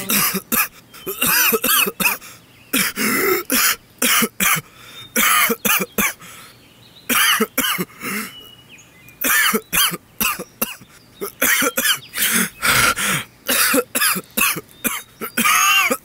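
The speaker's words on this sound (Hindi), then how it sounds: "तुम्हें इतनी खांसी क्यों हो रही है?" Repeated harsh coughing fits, close and loud, in rapid bursts with short gaps, continuing for a long stretch.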